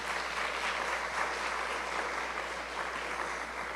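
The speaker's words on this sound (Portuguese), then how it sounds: "Muito bem, uma salva de palmas," Steady crowd applause at a church convention, dense and continuous, clapping evenly throughout without any voices rising above it.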